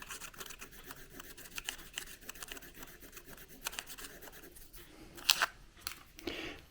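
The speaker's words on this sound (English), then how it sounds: "Let's see if the pencil will draw on here." Pencil drawing on the surface of a wireless adapter for a DJI Pocket 2, faint close scratchy rubbing strokes repeating in short quick bursts, with a few sharper scrapes toward the end.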